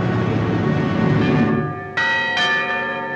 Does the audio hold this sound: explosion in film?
no